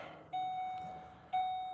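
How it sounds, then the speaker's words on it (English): Two chimes from a 2007 Ford Explorer 4.0L, each a clear, sustained electronic tone about a second apart, moderately loud over faint background noise. "Ford and their annoying beeps"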